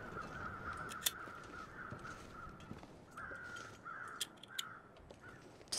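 Crows cawing in the survival video game The Long Dark, several sharp caws scattered over a steady windy in-game ambience, mid-distance and fairly faint.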